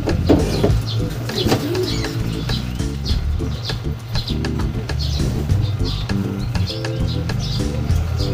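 Pigeons coo and flap nearby, with repeated low, throaty coos and bursts of wing beats over a continuous background, plus faint chirps and a little speech.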